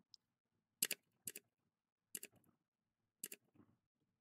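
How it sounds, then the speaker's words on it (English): Computer mouse clicked several times in quiet surroundings: four sharp double clicks spaced about a second apart, close and crisp, with no talking. "I can hear the mouse click sound in my recording video."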